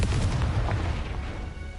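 A Confringo fire spell explodes in the Hogwarts Legacy video game, a dense rumbling blast with deep low boom that fades gradually over its short length, with no voices.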